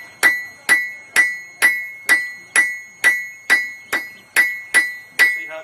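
A blacksmith hammers a hot hook flat on an anvil at an antique farm museum exhibit: about twelve loud, evenly spaced metallic strikes, each ringing bright and sustained before the next blow.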